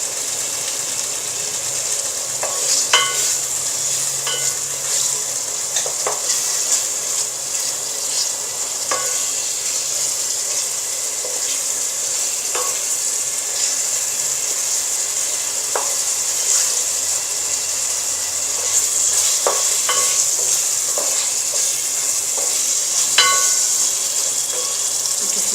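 Hilsa fish fries in a pan for a ridge gourd stew, giving a steady, close bright sizzle with occasional clicks and stirring taps, no voices.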